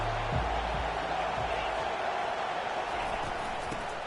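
Crowd noise at a college football game between Alabama and Oklahoma, a continuous roar from a packed stadium crowd trying to pin the opposing offense deep, steady and broad throughout with no breaks.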